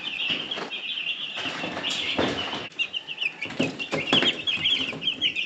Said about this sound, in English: Although these chicks are only a few days old, it looks like they've already outgrown the little feeder I got in there for them